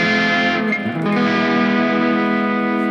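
An electric guitar, a Harley Benton Fusion 3 HH FR, plays through a Mesa amp model on a Valeton GP-200, a loud, distorted chord ringing out and sustaining for nearly three seconds.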